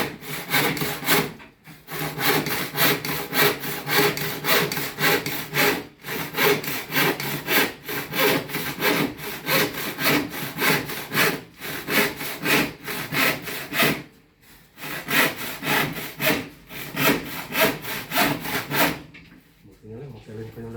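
A hand saw cuts through wood during a cabinet repair, a steady run of rasping back-and-forth strokes with a few short pauses, fairly close, with voices talking now and then.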